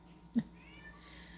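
A single short, quiet cat meow sounds once over a faint background hum, then quiet.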